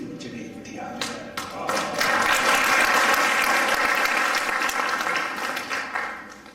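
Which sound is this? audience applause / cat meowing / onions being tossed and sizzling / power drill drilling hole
audience applause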